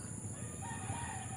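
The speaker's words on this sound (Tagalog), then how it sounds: "maririnig natin dito mga tunog ng ibon at mga manok dito" Chickens and roosters crowing and clucking in an open field, faint and distant beneath a steady background hum, with a drawn-out crow rising over the low murmur.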